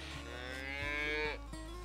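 A Black Angus cow on a ranch gives one long, loud, close moo with a strong drawn-out harmonic tone, alone with no voices.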